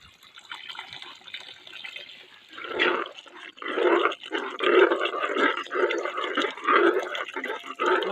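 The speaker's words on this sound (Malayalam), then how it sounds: "അതിനനുസരിച്ച് നമുക്ക് വെള്ളം ഒഴിക്കുക." Water pours into a pot of chicken for Ooty-style biryani in a kitchen, splashing and filling in several close bursts of pouring with brief pauses between them and no talking.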